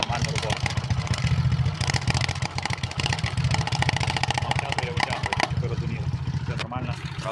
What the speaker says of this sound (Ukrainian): мотоцикл у нас заведений.